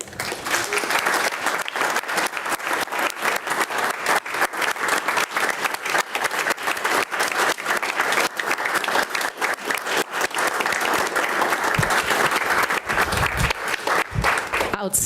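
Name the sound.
round of applause at a city commission meeting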